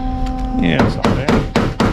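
A hammer taps the rusty corner of sheet metal around the window of a 1970 Chevelle, several sharp metallic knocks in an even rhythm, close and loud, after a brief hum.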